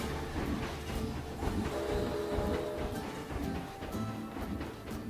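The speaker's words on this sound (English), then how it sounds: "Oh, and the train's just coming as well." A train passes in the Planet Coaster theme park game, rumbling and clattering along its track at moderate distance, with a rhythmic clickety-clack and brief horn-like tones over a steady wash of park ambience.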